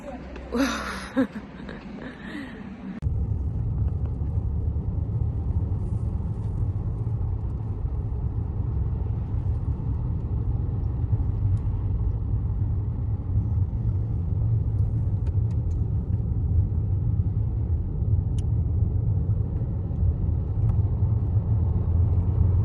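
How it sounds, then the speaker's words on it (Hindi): Car interior while driving home through heavy traffic jammed by an accident, a steady low road and engine rumble running continuously after a brief louder burst of voices at the start. "इतनी ट्रैफिक थी, फुल ट्रैफिक ब्लॉक थी"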